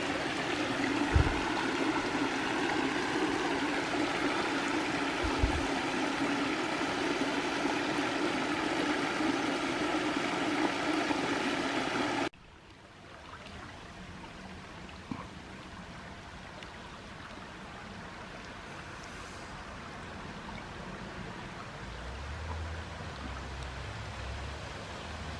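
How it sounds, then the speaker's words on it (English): Small cascades of a woodland stream in Bowie Nature Park, Tennessee, make a steady wash of rushing water, fuller and louder at first, then softer and more distant for the rest. "Things just full and full of those little cascades."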